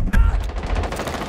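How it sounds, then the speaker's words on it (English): A flashbang grenade bursts in the Rainbow Six video game, a sharp loud blast followed by a rattling crackle for about a second, close and with no talking. "Flashbang!"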